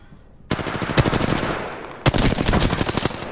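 Video game gunfire erupts in two loud, rapid automatic bursts, each a tight rattle of shots that opens with a sharp crack, heard close and with no talk over it.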